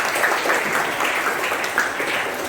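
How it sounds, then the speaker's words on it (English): A class audience applauds for Achievers House at a school quiz event, with a full, sustained round of clapping and a few sharper individual claps standing out. "give a big clap to Achievers House"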